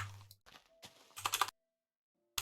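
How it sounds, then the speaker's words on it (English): Bursts of loud, clattery keyboard typing in quick clusters, separated by short pauses, ending in near silence with one last brief tap. "I'm sure you're all super annoyed at my very loud keyboard."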